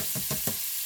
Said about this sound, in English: I'm going to stir those around so they get coated in the butter